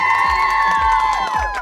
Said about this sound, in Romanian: aplauze pentru voi toți